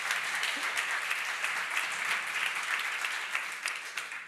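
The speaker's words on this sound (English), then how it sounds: "let's clap for nothing" Audience applause at a tech summit livestream, a steady wash of many hands clapping that holds for a few seconds before tapering slightly at the end, with no voices over it.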